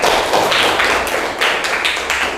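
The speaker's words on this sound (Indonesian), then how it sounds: "Nah, tepuk tangan anak-anak." A classroom of children claps hands in a loud, ragged burst of sharp slaps that swells and dips in irregular waves, heard close by without talk.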